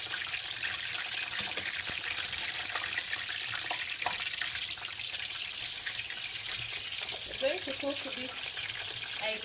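Irish potatoes frying in oil until crisp make a continuous, close crackling sizzle with occasional small pops, and faint voices drift in underneath.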